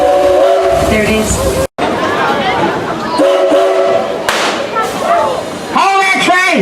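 A train passes with horn blasts and whistle-like tones over rumbling wagons, loud and close, while people shout and talk excitedly over the noise.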